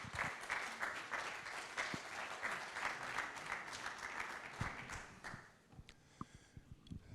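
A conference audience on the road to the Sharm el-Sheikh COP claims applauds steadily for a welcomed host, a dense wash of clapping that fades to a few scattered claps and thumps at the end.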